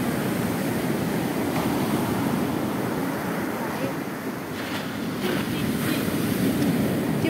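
Big sea waves breaking on a shore in rough weather, a loud, continuous roar of surf mixed with wind buffeting the microphone, with people talking now and then.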